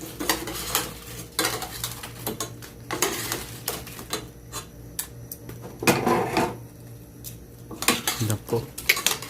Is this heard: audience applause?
no